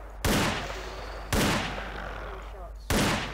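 Three booming shots from a Smith & Wesson Model 500 revolver in the Garry's Mod video game, spaced about a second apart, each loud blast with a long ringing tail.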